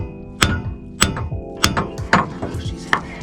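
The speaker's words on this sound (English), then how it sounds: "Try a couple whacks, see what happens." Hammer strikes on a broken part of a 1981 International 1754 dump truck, five sharp metallic whacks at roughly even half-second intervals, close and loud, each followed by a brief ringing clatter.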